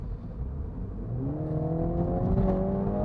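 A 2020 MINI Cooper S, a light car with a 189-horsepower twin-turbo four-cylinder, accelerates steadily, its engine note climbing smoothly in pitch over a constant low rumble for about three seconds.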